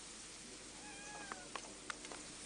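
A cat meows several times in a kitchen, short rising-and-falling calls spaced over a couple of seconds, fairly near but soft, with no talk over them.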